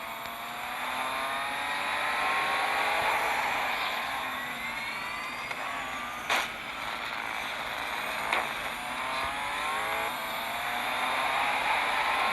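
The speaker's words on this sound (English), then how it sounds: "You can hear the engine." Racing video game car engine accelerating, a sustained loud whine with rising tones that climb repeatedly as gears shift, plus a couple of brief impacts midway, no talk.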